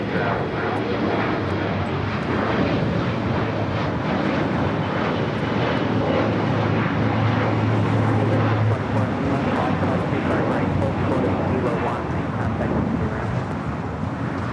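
Alaska SkyWest Embraer E175 airliner at LAX, a steady loud jet engine roar filling the whole stretch with broadband rumble and no break, as if taxiing or rolling close by.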